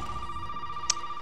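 A telephone rings in Resident Evil 7 as a steady electronic tone, close and clear, with a brief sharp blip near the end.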